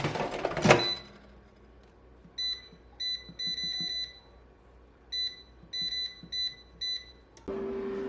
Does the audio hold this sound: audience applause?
no